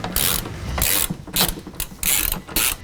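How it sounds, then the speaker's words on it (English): A hand ratchet with an 11mm socket loosens the rear fuel tank strap bolt on a Mercedes Sprinter, giving five quick bursts of close, crisp pawl clicking separated by short pauses. "Starting with the rear strap with an 11mm socket, we are going to be removing the rear strap."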